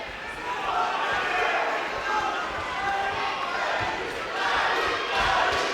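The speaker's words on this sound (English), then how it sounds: "the Sheffield crowd chanting the real name of Kid Galahad" A boxing crowd in a Sheffield arena chanting a boxer's name: a loud, sustained mass of voices that rises and falls in rhythmic waves and fills the space.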